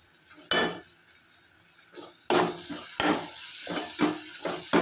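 Curry leaves dropped into frying masala for a cauliflower gravy, several sharp bursts of sizzling and crackling over a steady frying hiss, close and fairly loud, with no talking.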